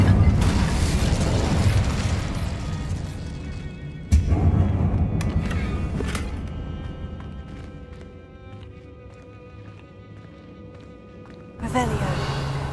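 Fiery spell bursts in Hogwarts Legacy, with a sudden boom near four seconds and another near twelve that give way to a roaring, crackling rumble, set against game music and mechanical clatter.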